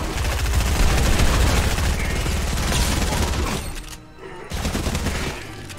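Rapid automatic gunfire in Fortnite, a loud, continuous stream of shots that pauses briefly and then resumes, with game sound effects layered underneath and no talking.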